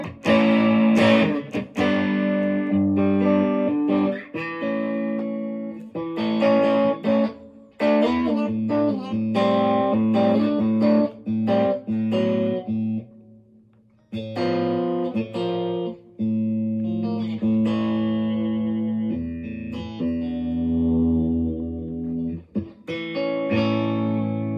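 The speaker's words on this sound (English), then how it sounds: "then you can roll up the volume and get some distortion." Distorted Sterling by Music Man Cutlass CT50 SSS electric guitar plays a series of chords and riffs, loud and gritty, with brief pauses between phrases.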